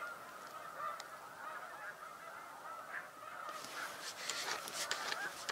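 A flock of geese honking continuously, including Ross's geese, a dense chorus of nasal calls that grows busier and louder toward the end, heard outdoors with no talking.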